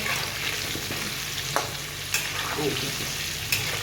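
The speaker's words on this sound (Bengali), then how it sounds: "চলো আলুটা নেড়ে দিই আলুটা ভাজছি দেখাই আলু ভাজা হচ্ছে" Potatoes fry in a pan with a steady close sizzle, and a few sharp scrapes at irregular intervals as they are stirred.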